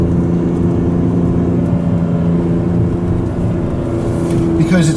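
A BMW S54 straight-six in a Z3 M coupe hums at around 3,000 rpm in second gear at 25 mph, a steady, loud, close engine drone with tonal harmonics and a slight rise near the end.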